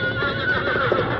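Roan horse whinnying in fear during a lightning storm in an old radio drama, a short, shrill, wavering neigh heard up close with no talk over it.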